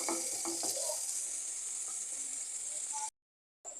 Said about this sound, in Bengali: একটু ব্রাউন কালারের মতো করে ভেজে নেব।